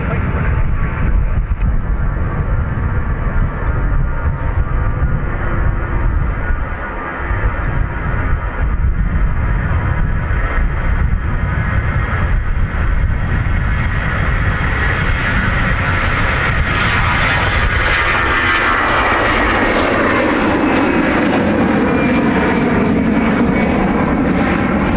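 An Aer Lingus jet roars loudly and continuously as it takes off from Dublin Airport bound for Bilbao, heard up close, with the engine pitch shifting and sweeping as the aircraft climbs away.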